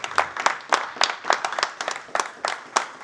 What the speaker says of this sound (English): we give a round of applause to Doug?